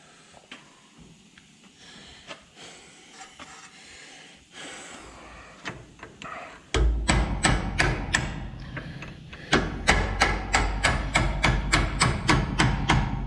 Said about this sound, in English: Granted, it's not a very big air chisel.